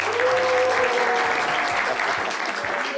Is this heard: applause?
yes